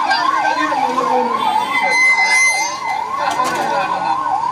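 An ambulance siren wails in a steady rising-and-falling cycle as it moves through a rally crowd in Vijayawada, loud and close, with crowd noise beneath it.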